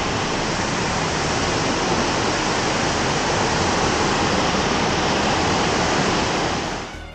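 Waterfall at Lubuk Hitam running with a low flow in the dry season, a steady, loud broadband rush of falling water that continues unbroken for several seconds with no voices.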